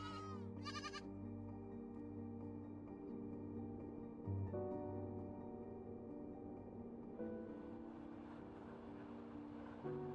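Goats in rural Ethiopia bleat in a quick pair of calls near the start, then fade under a steady, tonal background drone for the rest of the stretch.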